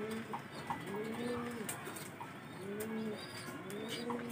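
Racing pigeons cooing at a home loft, soft repeated low coos recurring in rounded phrases over steady background noise, with a few chirps mixed in.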